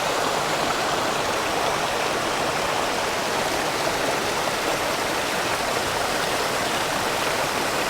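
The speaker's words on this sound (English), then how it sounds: "And there we go, there's Bastion Cascades." A mountain stream at the Bastion Cascades pours over moss-covered rocks, giving a loud, steady broadband rush of falling water that runs without a break and has no voices over it.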